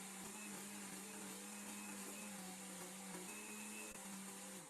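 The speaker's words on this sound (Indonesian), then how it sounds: "ini jagungnya mau saya blender dengan 200 ml susu full cream" A blender whirs steadily, blending sweet corn with full cream milk into a smooth mixture; a continuous, even motor drone fills the whole stretch at close range with no talking.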